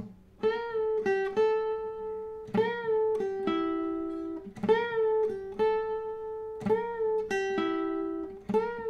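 An electric guitar plays a clean, sustained melodic riff, with bent and held notes repeating in a steady phrase, close and alone.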